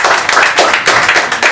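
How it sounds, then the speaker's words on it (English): An audience at a lunch event claps in brief, dense applause, loud and close, with no talk over it. "Round of applause for them."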